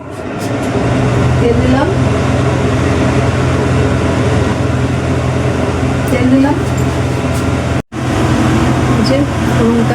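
A kitchen chimney exhaust hood runs with a steady, loud whooshing fan hum, continuous apart from a brief dropout, while someone speaks over it.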